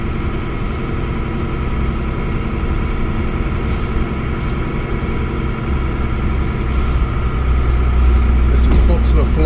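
A car engine labours steadily in first gear up a slow hill climb, a loud, even mid-range drone with a deep rumble that builds slightly toward the end, while people talk faintly beneath it.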